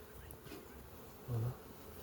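A swarm of honey bees gives off a faint, low, steady buzzing hum, with one slightly louder pass as a bee draws close for a moment.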